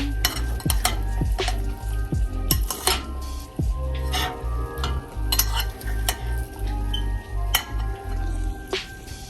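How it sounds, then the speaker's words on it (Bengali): Onions frying in a pan while being stirred and flipped with a utensil during tandoori chicken cooking: steady close sizzle under repeated scraping knocks and clinks of metal on the pan, no talking. "এখন যেটা আমি করব, এটা দিয়ে আমি একটু উল্টাই দেব পেঁয়াজটা"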